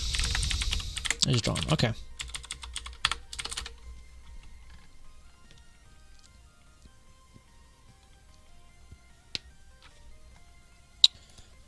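Brisk computer keyboard typing in a dense burst for the first couple of seconds, then a near-quiet stretch broken by a few isolated key taps; a voice speaks briefly.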